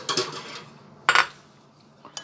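Salad tossed with olive oil, utensils clinking and scraping against the bowl in two quick bursts of metallic clatter, with a fainter tap at the end and no voice.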